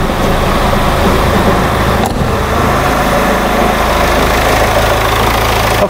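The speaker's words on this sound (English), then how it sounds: "I then need to start and run the engine" A diesel car with a Bosch common-rail injection system idles steadily and close by, a continuous low rumble with a faint knocking texture and a brief dip partway through, with no talking.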